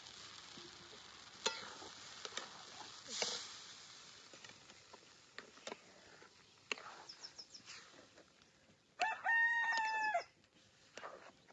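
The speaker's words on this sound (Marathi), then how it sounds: "कोंबडे बी आले आता." A rooster crows once loudly near the end, preceded by scattered clucks and soft knocks in a quiet rural kitchen setting, with occasional faint speech.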